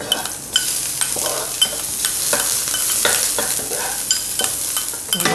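Red bean curd is mashed and stirred in a pan while cooking a Chinese New Year mixed-vegetable dish, giving steady scraping and soft sizzling with regular sharp utensil clicks against the pan, and no talk.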